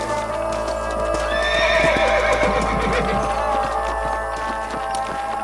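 Horses in the Red Dead Redemption video game neigh and whinny loudly near the listener, with hooves clip-clopping beneath, over a steady low rumble of game ambience.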